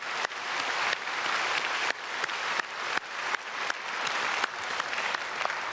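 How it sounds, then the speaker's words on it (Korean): A church congregation applauds the choir after a Sunday worship service, a dense, steady burst of clapping from a large crowd that continues throughout. "우리 찬양대에게 큰 박수 보내겠습니다."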